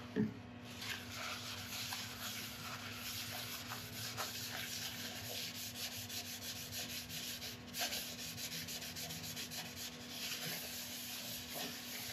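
Cloth rubbing Howard's Feed and Wax onto an elm bowl spinning on a wood lathe, a steady close scuffing hiss with a low motor hum beneath, one sharp knock near the start.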